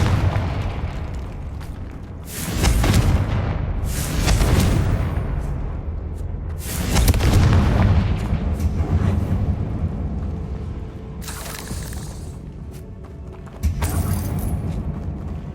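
In Hogwarts Legacy, the Confringo fire spell sets off a series of deep booming explosions, several heavy blasts rolling out over about fifteen seconds with crackling tails between them.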